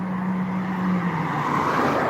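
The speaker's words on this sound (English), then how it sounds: "wow, this car's just coming right at me" A car skids past on a road, close by: a sustained tire squeal with an engine tone rising and fading over a couple of seconds, with no voices.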